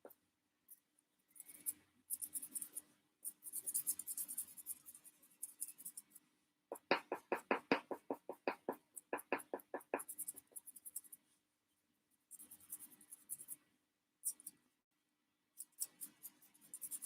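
Charcoal scratching and scraping across paper in quick bursts of strokes, with a run of rapid rhythmic hatching marks in the middle, close and fairly quiet, pausing between passes.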